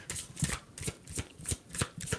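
A deck of tarot cards is shuffled close up in quick riffling bursts, about eight crisp flutters repeating in an even rhythm with no speech.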